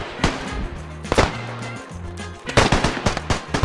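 Rifle shots crack from the WWI trench shooter Beyond the Wire, a few sharp, loud reports spaced apart, then a quicker cluster of shots near the end, over faint background game sound.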